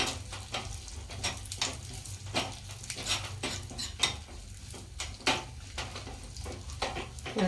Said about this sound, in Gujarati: સિંગદાણા પણ શેકાઈ જાય અંદર ને વઘાર પણ થઈ જાય.